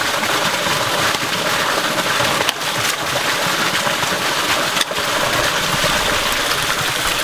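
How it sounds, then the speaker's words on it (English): Ram water pump started up and running outdoors, a steady loud wash of water noise with continuous broadband rushing and two brief dips in level. "All right, let me get this pump started here."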